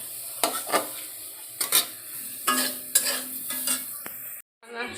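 Vegetables sizzle in a hot pan while a utensil scrapes and stirs in repeated strokes, with a short silence near the end.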